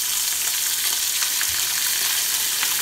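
Tomatoes fry in vegetable oil in a pan, giving a continuous, close, bright sizzle with faint stirring ticks.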